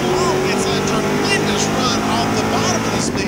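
Crate late model race cars battle side by side down the back straightaway at Virginia Motor Speedway, a loud continuous engine roar filling the track, with a commentator's voice running over it throughout.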